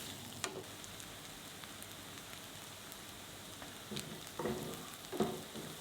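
Chopped onion browning in butter in a pan for pav bhaji gives a faint, steady sizzle, with a few sharper crackles and pops near the start and end.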